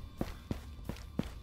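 Four evenly spaced footsteps in the video game Ghosts of Tabor, soft and fairly distant, with no talking.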